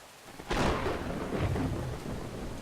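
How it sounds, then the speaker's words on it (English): A thunderstorm in the video game Brothers: A Tale of Two Sons, with a loud rumbling thunder roll that breaks in after a quiet start and then lingers as a steady wash of rain and wind. "Surely it's stormy out here."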